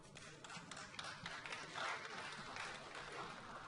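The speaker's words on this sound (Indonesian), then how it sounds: "Tahan dulu tepuk tangannya." Audience applause at an Indonesian cooperatives book launch event, a steady wash of many hands clapping at moderate, even loudness throughout, with no talk over it.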